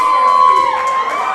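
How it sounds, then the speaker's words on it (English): Wrestling arena crowd roaring and cheering in a sustained wash of shouting, loud and continuous with a few higher whoops rising above the din. "you hear the crowd reacting"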